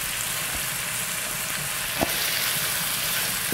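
Ground beef for chili fries in oil with a soft, steady sizzle, a few faint clinks of a spoon in the pan, fairly quiet with no talk.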